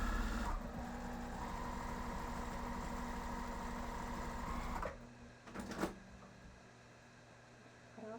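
Sewing machine stitching a fabric zipper pouch, a steady close mechanical whirring hum running for several seconds before stopping abruptly, followed by quieter handling clicks and rustle.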